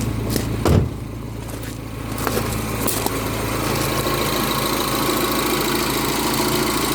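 A freshly rebuilt Mini Cooper S with the N14 R56 engine idles steadily, a low even engine hum close by with a couple of small knocks early on and no talk.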